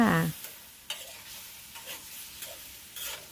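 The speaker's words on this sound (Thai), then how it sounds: "นี่ผัดคลุกเคล้า" Chicken with holy basil being stir-fried in a pan with green-cap seasoning sauce and dark soy, soft sizzling broken by several distinct spatula scrapes and tosses, close and fairly quiet, with no speech.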